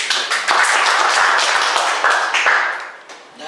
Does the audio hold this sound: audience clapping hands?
yes